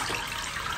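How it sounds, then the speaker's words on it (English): Running water splashes steadily during a hair wash in Porto Novo, Benin, a close, continuous rushing gush like water poured from a tap. "Washing my hair."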